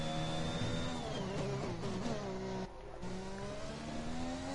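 Engines of racing cars howl steadily in a video game race at Interlagos, Brazil, a loud sustained whine with shifting pitch and a brief dip midway.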